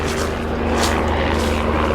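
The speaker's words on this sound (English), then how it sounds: "Oh my God, we've got a helicopter coming." A helicopter passes overhead, a loud steady engine roar with a rhythmic rotor chop that fills the whole stretch, no voices.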